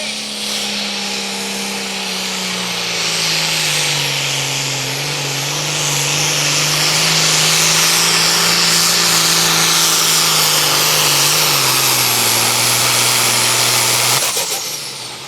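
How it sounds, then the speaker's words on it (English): A tractor-pull machine called Triple Chaos roars at full power during a pull, a loud sustained engine drone that rises and falls in pitch before cutting off near the end. "Roy will be up first here in the Triple Chaos machine."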